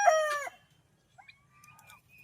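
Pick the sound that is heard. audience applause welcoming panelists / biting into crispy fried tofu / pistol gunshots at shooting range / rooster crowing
rooster crowing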